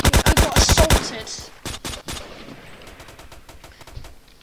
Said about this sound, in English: People are shooting me from the skies like pa pa pa pa.